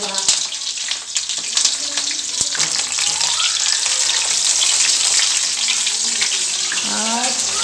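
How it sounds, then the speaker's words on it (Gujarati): Green chilies fry in hot oil with a loud, continuous sizzle and bubbling hiss, close up, with faint voices and a few clinks in the background. "અને હવે આપણે મરચાં તળી નાખવી."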